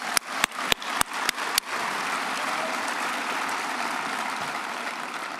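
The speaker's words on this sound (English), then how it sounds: "give them a round of applause" Convocation audience at the University of Idaho applauding faculty and staff: a few sharp, spaced claps open, then a broad, steady wash of crowd applause in a large hall.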